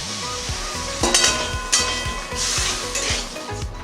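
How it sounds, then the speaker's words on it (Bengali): Water goes into a hot pan of elephant foot yam frying with Kashmiri chili powder, salt and sugar for a Bengali dalna. A steady sizzle rises, and a spoon scrapes and taps against the pan over and over. "এবার আমি কিছুটা জল দিয়ে দিলাম।"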